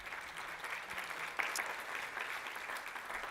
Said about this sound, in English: Yeah, round of applause, yeah.